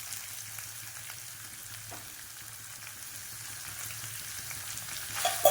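Finely chopped medium onion sautés in oil in a pan for a chickpea curry, giving a soft continuous sizzle with faint stirring scrapes and a louder clatter at the end, with no talk.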